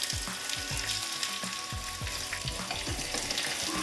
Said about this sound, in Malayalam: കുറച്ച് കൊച്ചുള്ളി വറുത്തിടാം.